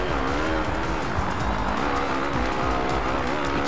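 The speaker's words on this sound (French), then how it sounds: "Petit dérapage, attention, là" Motocross bike skidding on an intermediate-bump circuit during MX2 qualifying at Nakhonchaisri, Thailand, in MXGP 2: a continuous loud engine drone with a steady skidding hiss running through the whole stretch.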